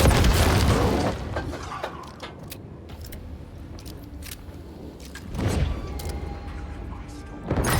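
Gunfire in the horror video game Alan Wake II, with a loud booming burst at the start, another heavy blast near the middle and a third at the end, separated by quieter tense ambience and small clicks.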